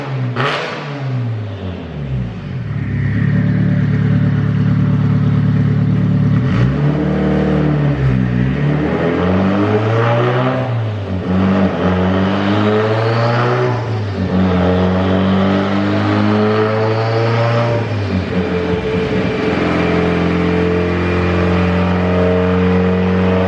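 Turbocharged Mazda Miata running hard on a dyno at about 15 psi of boost, its engine climbing through a long loud rev with rising and falling harmonics, easing briefly midway before pulling again, then dropping off near the end.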